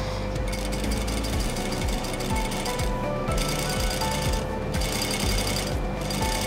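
A sewing machine stitches a double rolled hem on jeans in a steady, rapid mechanical chatter, its rhythmic thumping broken by a few brief pauses.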